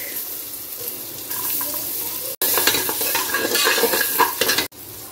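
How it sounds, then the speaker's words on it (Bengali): Chopped garlic sizzles and crackles in a hot pan with whole black peppercorns for a chicken stew, steady frying hiss with stirring scrapes, a brief break midway, close and fairly loud. "এবার আমি নেক্সট দিয়ে দেবো গার্লিকটা, চপড গার্লিক"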